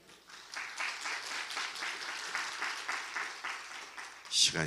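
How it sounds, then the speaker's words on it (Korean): A church congregation applauds during a New Year revival service, a steady wash of clapping at moderate level that carries evenly for several seconds and swells briefly near the end. "시간이 짧으니까 박수 조금만 치죠"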